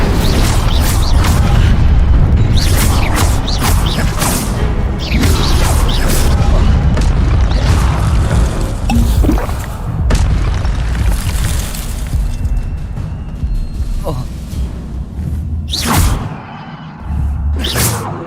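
Incendio fire spells blast repeatedly in the Hogwarts Legacy video game, loud booming whooshes and fiery roars layered close together with bursts and crackles, easing briefly near the end.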